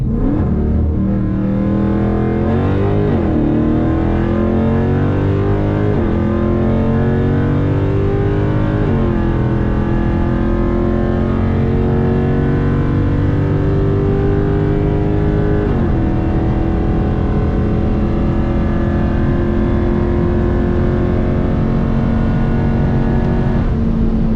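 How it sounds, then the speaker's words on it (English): A loud car engine with a custom Comp Cams camshaft and headers revs hard with no talking, its pitch climbing and then dropping sharply several times as it downshifts through the gears. "Hear these downshifts. Ooh, them downshifts are deadly."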